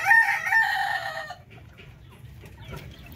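Pinoy breeder chickens on a farm: a loud, close rooster crow opens, then fades into scattered soft clucking and faint farmyard noise.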